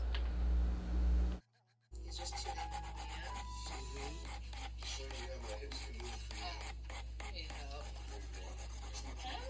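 Acrylic nails being filed, a steady close rasping and rubbing that runs continuously after a brief silent break, with no talking over it.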